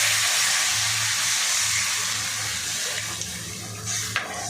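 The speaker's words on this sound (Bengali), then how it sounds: "আমি এবার এই যে দই আর বেসন গোলাটা এইটা দিয়ে দিচ্ছি।" A yogurt and gram flour batter is poured into a hot tempering, making a loud, continuous rushing, splashing pour that fades toward the end, with a couple of faint clinks and no speech.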